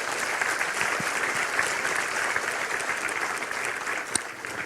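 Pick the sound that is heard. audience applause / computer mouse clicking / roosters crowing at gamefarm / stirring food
audience applause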